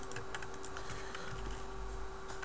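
Keys tapped on a computer keyboard at a quick, irregular pace, light clicks set against a steady low hum of room or computer noise, with no voices.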